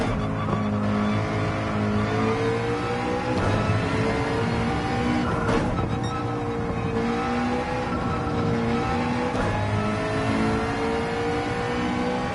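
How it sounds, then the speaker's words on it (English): A McLaren mid-engine race car laps Spa in Gran Turismo 7, its engine droning loud and steady with revving shifts, brief tire squeals and skids running throughout, no talk over it. "The McLaren is such an easy and enjoyable mid-engine vehicle to drive."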